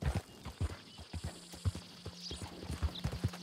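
Horse hooves clip-clop at a steady trotting rhythm in the Red Dead Redemption 2 video game, sharp close hoofbeats repeating throughout without talk.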